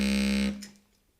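A tenor double-reed wind instrument with nine bores plays its lowest note, a buzzy, reedy drone held for half a second and then cut off, close and alone.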